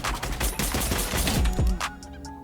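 Rapid bursts of gunfire in Fortnite headshot aiming practice, loud and continuous with dense overlapping shots, ending in a short tail of scattered reports.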